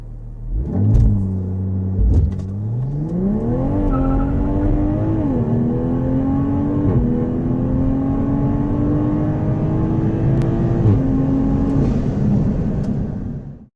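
A Toyota A90 Supra fitted with a catted downpipe launches hard on a street acceleration run, its engine revving up through several gear changes with rising pitch and brief dips between shifts, loud and close from start to finish.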